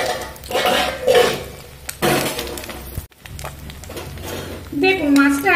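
Fish frying firmly in a pan for a fish-and-greens dish, its sizzle mixed with clattering utensil and stirring noises, and a brief voice near the end.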